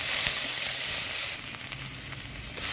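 Dried chilies, whole garam masala and garlic paste sizzle in hot oil, a steady close-up frying hiss that dips slightly partway through before swelling again.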